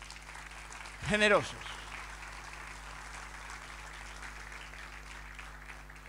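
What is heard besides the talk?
applause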